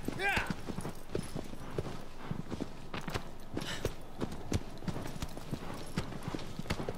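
Horse hooves clip-clop in a steady, quick rhythm in the game Shadow of the Colossus on PS4, with a brief whinny near the start and a voice talking faintly underneath.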